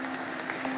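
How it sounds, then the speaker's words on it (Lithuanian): A crowd applauding to welcome guests at a gathering, a soft, continuous patter of many hands clapping at a distance, fairly faint. "sutikime svečių su plojimais"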